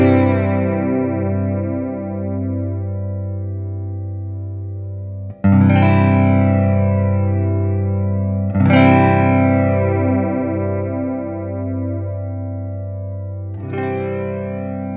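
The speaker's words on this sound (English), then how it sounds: "I'll just sweep through the manual control and see if you can hear that reduction in bass and that increase in shimmery effect" Sustained electric guitar chords ring through a Boss BF-2 flanger pedal as its manual control sweeps from long to short delay, the tone thinning and shimmering as the chords are restruck several times and left to decay.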